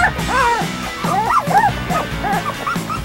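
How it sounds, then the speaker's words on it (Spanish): A puppy yips and barks in short, high bursts with whimpering between them, close by and fairly loud, with a voice faintly in the background. "Ahí está ladrando, ladrando, mordiendo"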